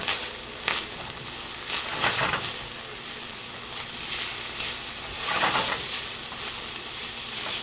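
Food sizzles and fries in a hot pan, tossed with onion powder, garlic powder and ginger, with steady hiss and a few louder stirring and tossing bursts, close and without talk.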